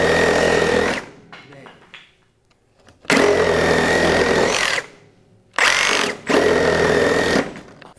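Ridgid reciprocating saw with orbital action on, cutting fast in three loud buzzing bursts separated by short pauses, close to the microphone.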